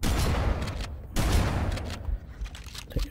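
Shotgun blasts in the Halo Anniversary video game, several heavy booming shots in quick succession, loud and close, with reverberant tails and shorter bursts of gunfire trailing off at the end.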